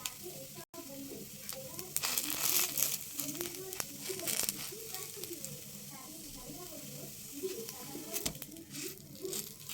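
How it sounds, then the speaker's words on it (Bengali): Patishapta pitha, a rolled Bengali pancake, fry in a pan with a continuous soft sizzle and crackle, broken by brief louder spatters, with a voice speaking at times. "হালকা একটু লালচে লালচে করে ভেজে নেব, যাতে কাঁচা ভাবটা না থাকে।"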